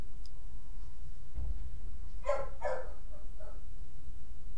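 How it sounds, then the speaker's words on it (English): A dog indoors barks about three times in quick succession, moderately distant and not very loud, over a quiet room hum. "my dog is still barking"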